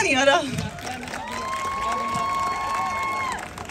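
A college crowd at a movie promotion event at CGC Landran cheers with a sustained roar and a long whistle-like tone, after a voice speaks briefly over the noise at the start.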